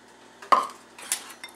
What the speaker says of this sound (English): And you just mix it all together.